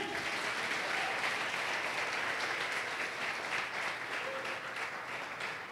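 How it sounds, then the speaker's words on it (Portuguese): A church congregation applauds steadily and loudly throughout, a dense wash of clapping that holds evenly from start to finish. "Quem quer nisso, aplauda o Senhor"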